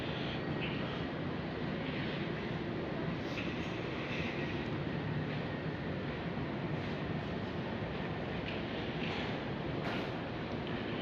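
Steady rumbling roar of an MRT train bound for Lebak Bulus at Dukuh Atas station in Jakarta, broad and continuous with no one speaking, holding an even level throughout.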